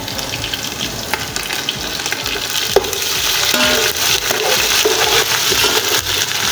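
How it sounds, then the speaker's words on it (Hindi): Garlic and ginger paste frying in oil in a pan for chana pulao, with a steady, dense sizzle and occasional scraping and stirring, close and fairly loud throughout. "इसको अच्छी तरह इसकी बुनाई करें।"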